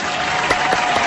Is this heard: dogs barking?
no